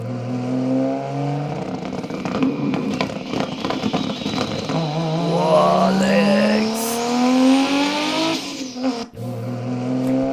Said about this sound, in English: It looks like Hulk Hogan's Supra.